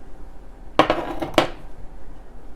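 A utensil clinks twice against a bowl while an Asian-style marinade with pepper flakes is mixed, two bright close taps over a quiet background.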